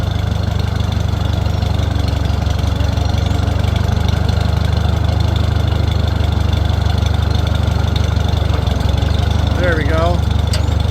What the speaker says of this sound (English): Pull this tractor or this wagon out of here.